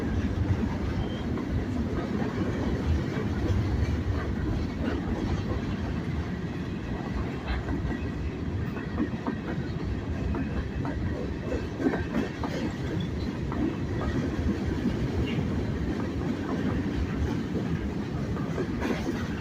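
Two freight trains, a northbound manifest and a southbound local with grain hoppers, tank cars and centerbeam flatcars, roll beneath the Main Street bridge in Greenwood, South Carolina; steady loud rumble with continuous wheel clatter throughout.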